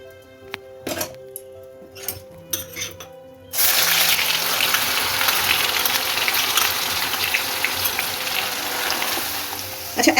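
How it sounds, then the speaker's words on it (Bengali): Onion paste drops into hot oil seasoned with salt and bursts into a loud, steady sizzle. A few light knocks come before it, then close, continuous frying noise. "এবার আমি পেঁয়াজ বাটাটা দিয়ে দেবো।"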